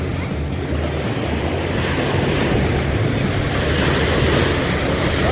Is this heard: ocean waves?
yes